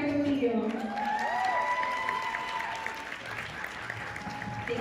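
Applause from an expo audience welcoming a speaker onstage at a women's empowerment event, a steady wash of clapping with a voice or two calling out over it.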